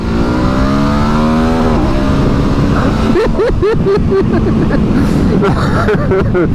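KTM Super Adventure motorcycle pulling hard in second gear on an open national-speed-limit road, engine note climbing steadily and loud over heavy wind roar, with short gear-shift breaks and revs rising again.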